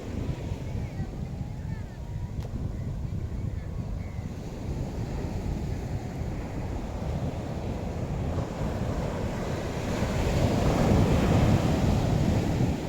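Constant rumble of waves on Alappuzha beach, Kerala, with heavy wind noise, swelling louder toward the end as water rushes in close by over feet.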